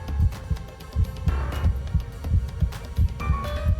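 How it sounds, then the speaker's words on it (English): A heartbeat sound effect from the visual novel game Dracu-Riot throbs in a steady, fast double-pulse rhythm, deep and loud over a low hum. "My heartbeat grows more and more violent"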